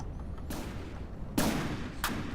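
Small guns firing on an airship in the video game From the Depths, a few separate sharp bursts spaced about a second apart over a steady rumble, moderately loud.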